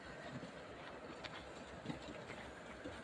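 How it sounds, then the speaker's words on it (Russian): A train runs somewhere in the background outdoors on a windless street, a faint, steady rumble with light rhythmic clatter, distant and low under the ambient noise. "в фоне где-то едет поезд"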